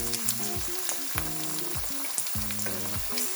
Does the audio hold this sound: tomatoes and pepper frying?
yes